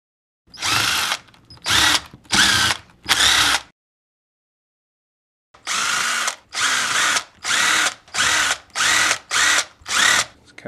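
A power tool with a socket zips out bolts while a hydraulic steering orbital valve is torn down, firing in short, loud whirring bursts: four quick runs, a silent pause, then a rapid series of about eight more, close up.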